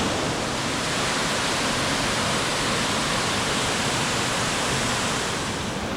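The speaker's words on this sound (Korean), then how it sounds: "여기 폭포도 엄청납니다." Mountain waterfall beside a valley stream on the humid Gombaeryeong trail in Inje, Gangwon, a constant broadband roar of falling water, loud and unbroken with no voices.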